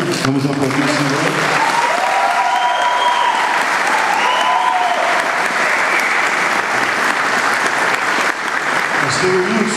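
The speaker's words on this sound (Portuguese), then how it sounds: "Vamos aplaudir o Senhor." A congregation applauds in church during a pastor's consecration service, loud continuous clapping held throughout, with voices and some singing or calling rising over it.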